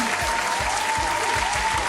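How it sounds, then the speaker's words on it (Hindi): Loud applause for Pinky, winner of a children's story quiz, a dense steady wash of clapping filling the whole short stretch, with a faint steady tone running underneath. "पिंकी के लिए जोरदार तालियां"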